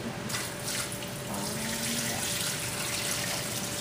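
Water pours steadily and gently onto aquarium rocks, a soft continuous splashing trickle with no voices.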